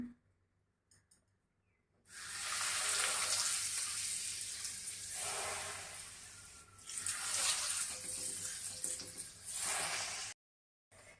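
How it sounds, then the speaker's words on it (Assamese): Hot oil poured over masala-coated olives for a spicy olive pickle, giving a loud, steady sizzling hiss that lasts about eight seconds and then cuts off abruptly, with no talking. "এতিয়া এই গৰম তেলখিনি মই গৰমে গৰমে এই মছলা সানি লোৱা জলফাইখিনিৰ ওপৰত দি দিম।"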